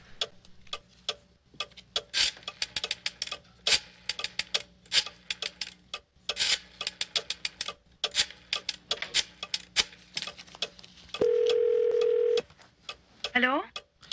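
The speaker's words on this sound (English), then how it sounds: "Gotta love those old school rotary phones." An old rotary telephone in the video game The Beast Within clicks through a rapid run of dialing pulses, followed by a steady dial tone held for about a second. A rising warble closes the clip, which is otherwise mostly quiet.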